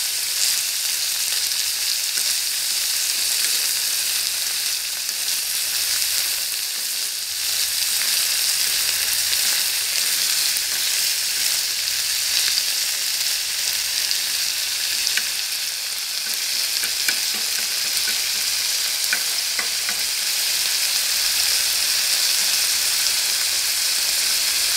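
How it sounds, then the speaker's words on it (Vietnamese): Small shrimp stir-fry in a hot pan with a loud, continuous sizzle and hiss, broken by occasional soft scraping as they are stirred, with no voices. "Em sẽ xào cho tép nó đỏ lên hết toàn bộ, rồi em sẽ đổ cái nước sốt vô ạ."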